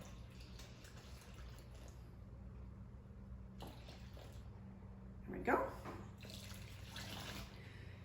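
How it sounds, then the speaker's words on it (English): Water pours into a measuring cup up to the two-cup mark for no-knead bread and pizza dough, a soft steady stream running throughout while a person briefly speaks over it. "So I'm just going to pour off to the 2-cup mark."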